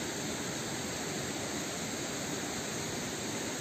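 Water rushes steadily at the springs of the Voirani river near Ano Kefalari, Drama, as a constant full roar of flow with no breaks.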